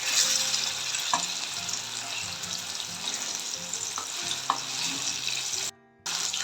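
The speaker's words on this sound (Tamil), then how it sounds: "நம்ம ஃப்ரை பண்ணி எடுத்துக்கலாம் ஃபிஷ்ஷு" Marinated fish shallow-frying in oil, a steady close sizzle and bubbling with a few small clicks, briefly dropping away near the end before resuming.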